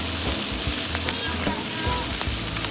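Garlic, onion and leek sauté in a pan, producing a loud, continuous close-up sizzle with occasional stirring scrapes.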